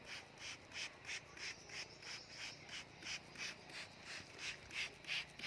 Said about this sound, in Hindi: पानी देने के लिए कभी भी इसको किसी डब्बे से या धार लगा के पानी मत दीजिए। इसको बस ये इस तरह से स्प्रे करिए आप।